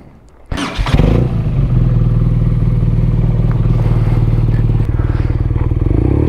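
A 2018 BMW R nineT motorcycle engine catches and settles into a loud, steady idle close by, its rapid putter continuing throughout with a slight revving change near the end.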